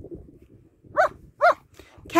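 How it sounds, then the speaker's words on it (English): A German Shepherd barks twice, sharp and close, with a short gap between, over faint background murmur. "what are you barking at?"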